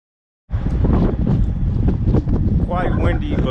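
Strong wind buffets the microphone outdoors with heavy, continuous rumbling noise from start to finish, with a voice speaking faintly underneath.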